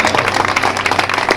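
A church congregation applauds, and the dense, continuous clapping of many hands fills the room at a loud level.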